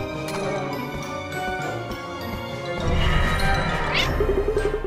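A cartoon cat meows in the video game Cat Quest, bright repeated mews over game music and sound effects, with a scuffle of hits toward the end.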